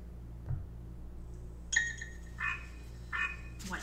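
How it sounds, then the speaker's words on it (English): A frog croaks in a few short, separate calls, fairly faint over a low steady hum, with a brief clink near the start. "What do you hear? A frog."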